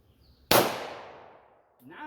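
A single sharp, loud report from a revolver firing a .32 Smith & Wesson Long cartridge, with a long decaying tail, followed by a voice starting to speak.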